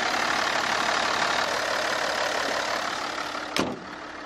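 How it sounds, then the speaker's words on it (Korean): A Hyundai Veracruz 4WD 300VX Premier runs at a steady idle, a continuous low engine drone held close, with a brief sharp knock or click near the end before the level drops slightly. "바로 엔진 소리 한번 들려드릴게요"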